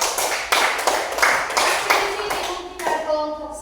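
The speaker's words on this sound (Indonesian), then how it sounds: "tepuk tangan untuk kelompok 3" A classroom of students claps for a presenting group, several bursts of brisk hand clapping that fade out toward the end as a voice begins under it.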